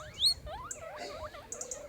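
Guinea pigs squeak in a rapid series of high, rising and falling chirps, close and fairly clear, with several short calls overlapping during an outdoor camping trip in Ulster.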